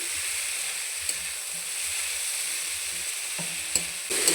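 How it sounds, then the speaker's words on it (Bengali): Water spinach fries in oil in a karahi with green chilies as a spatula stirs it. A steady sizzle runs under occasional scraping stirs and a few sharp clinks near the end. "এইভাবে আপনারা একবার কলমি শাক ভেজে খেয়ে দেখবেন দারুণ লাগে"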